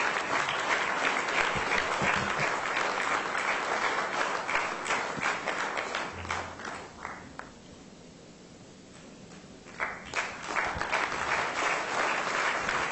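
A large audience at a corporate excellence awards ceremony applauds as a construction group executive is called up on stage, sustained dense clapping with a brief dip near the end before swelling again.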